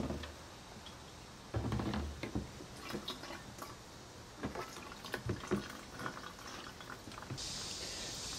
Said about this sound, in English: So I'm going to go ahead and drain this into my bad gas container.